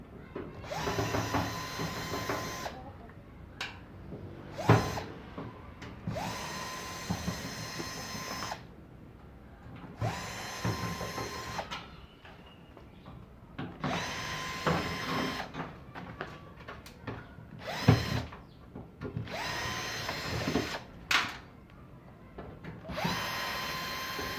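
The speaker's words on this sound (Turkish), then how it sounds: "Şimdi şuradaki vidalara sökeceğim arkadaşlar." A power drill backs screws out of a combined stove and oven. The whirring comes in repeated short bursts with brief gaps, loud and close, with no talking.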